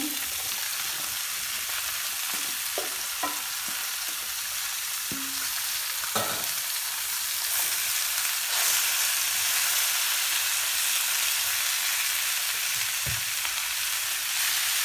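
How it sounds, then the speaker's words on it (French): Onions and shallots fry in a pan for a veal Marengo, a steady close sizzle and hiss throughout with a few soft clicks of a utensil stirring. "Et maintenant je rajoute mes oignons avec les échalotes."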